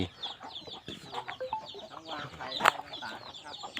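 Chickens clucking on a small mixed Thai farm that also keeps ducks, with a few short fowl calls and one brief sharper squawk over a busy outdoor background.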